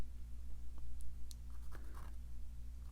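A fountain pen draws a lighthouse and buildings on paper for an ink and wash piece, giving a few faint, brief scratchy strokes over a steady low hum.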